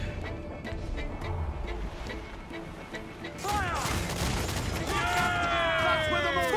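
Ship cannons fire in Assassin's Creed IV: Black Flag, a rumbling naval battle with bursts of booming shots and whistling projectiles that grow louder and denser, with shouted voices mixed in.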